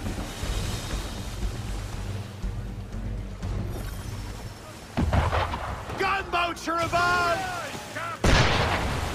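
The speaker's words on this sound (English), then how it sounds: "Why is he shooting at us?" Cannon fire from a ship at sea in Assassin's Creed 3: deep booming blasts roll over a constant wash of wind and waves, with a sharp close shot near the end and voices talking in between.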